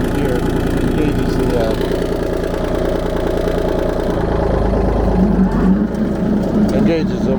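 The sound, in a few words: tractor engine running with the PTO engaged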